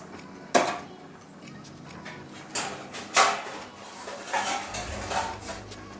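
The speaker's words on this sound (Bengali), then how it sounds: "একটু থালা দিয়ে ঢাকা দিয়ে দিচ্ছি" A plate being set over a pot of kundri (ivy gourd) and potato curry, giving a sharp ceramic clink and a few lighter knocks and scrapes of crockery against the metal pot, close and fairly clear in a quiet kitchen.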